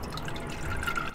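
Transmission oil draining from a car with about 210,000 km on it, a steady liquid gush and splatter into a container, continuous and fairly close, with no voices.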